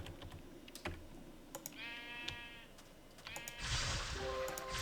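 A sheep in Minecraft, with the Ars Magica 2 mod, gives two clear bleats, a longer wavering one and then a short one, over quiet computer keyboard clicks and scattered taps, ending in a louder burst of noise.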